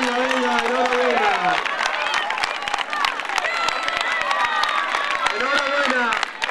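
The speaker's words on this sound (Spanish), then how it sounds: "aplauso para Oscar Carrera" Applause and cheering from a crowd for a runner at a small-town urban mile race ceremony, with a voice talking over the dense clapping throughout.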